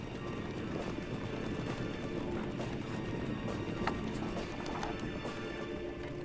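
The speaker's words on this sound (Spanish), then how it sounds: "Mientras más rápido cabalgan, más polvo, más terror y más ruido generan." A group of about ten horses gallops over dusty ground, a dense, continuous pounding of hooves that is moderately loud and fairly close, with no voices.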